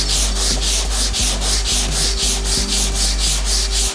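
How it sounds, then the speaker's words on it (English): Body filler on a BMW E31 is hand-sanded in loud, regular back-and-forth strokes at close range, giving a rhythmic, gritty rasp. "Once you get through the tough outer casing of the filler, the rest of the filler underneath that is really easy to sand."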